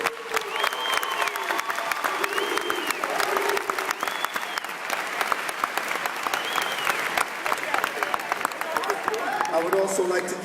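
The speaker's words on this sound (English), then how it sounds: "please give a big round of applause for the Nu Sigma chapter of Phi" Loud, sustained audience applause with cheering fills the room for the Nu Sigma chapter of Phi Beta Sigma Fraternity at a step team reunion show in Philadelphia, dense clapping continuing steadily throughout.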